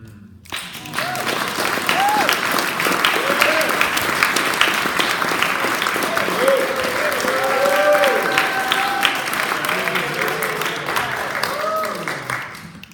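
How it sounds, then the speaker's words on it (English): Audience at a poetry reading breaks into sustained applause, with scattered whoops and voices riding over the steady clapping before it fades. "Stop clapping, yo."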